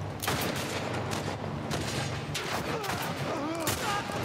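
Rapid gunfire in The Last of Us Part 1, sharp cracking shots fired in quick clusters, some overlapping, loud and close against a busy game background, with a voice murmuring faintly underneath.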